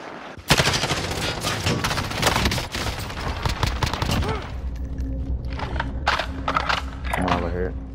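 Gunfire in the video game Call of Duty: Warzone, with a loud burst of rapid shots opening the stretch and repeated cracking volleys that follow. Game effects and a voice run underneath.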